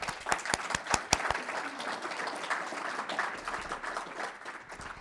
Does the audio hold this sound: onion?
no